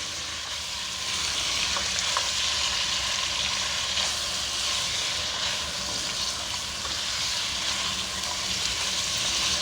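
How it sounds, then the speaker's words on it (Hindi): Chicken pieces fry in hot oil for a home-cooked chicken curry, giving a steady, close, continuous sizzle and crackle with slight rises and falls throughout, and no voices. "मैं इस तरीके से इसको ऑयल में अच्छे तरीके से फ्राई कर लूँगी, इस तरीके से।"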